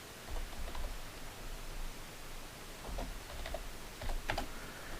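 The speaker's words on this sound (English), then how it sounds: "I can type today." Faint typing on a computer keyboard, with scattered soft key clicks under a steady hiss of background noise.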